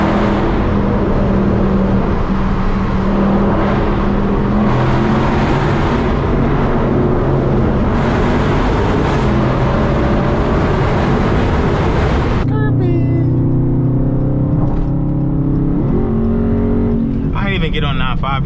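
A Dodge SRT Scat Pack drives fast on a busy highway, its engine and loud exhaust roaring steadily as it accelerates, with a sharp shift in tone partway through and a continuous heavy rumble throughout.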